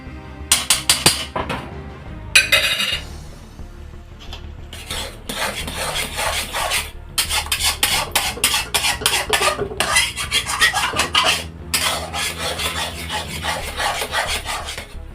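A spoon stirs and scrapes banana halwa made with ghee in a pan, repeated rasping strokes against the metal in bursts with short pauses, close and fairly loud, with no talking.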